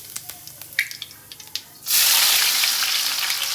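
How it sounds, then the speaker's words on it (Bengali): Meat dropped into hot oil with cumin seeds and bay leaves: a few scattered pops and crackles, then a sudden loud, steady sizzle of frying close by in a Bengali kitchen. "মাংসটা রান্না করার জন্য আমি জিরে তেজপাতা দিয়ে দিলাম"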